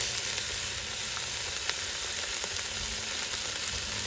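Ginger garlic paste, mirepoix vegetables and bay leaves fry in a pan, giving a constant soft sizzle with faint occasional crackles and pops, fairly quiet and uninterrupted.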